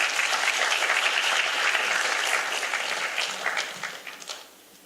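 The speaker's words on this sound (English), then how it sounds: "Let's take them with a big round of applause." Audience at an English talk concert in Daegu breaks into sustained, dense applause that holds steady and then tapers off toward the end, with no talking over it.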